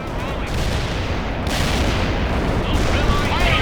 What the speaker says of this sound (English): Artillery striking the mark.